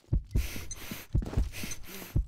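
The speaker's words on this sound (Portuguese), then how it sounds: "Esse coração batendo aqui não" A heartbeat effect from the video game Combat Arms thumps in low, muffled pairs, repeating steadily about once a second over a hissy game background.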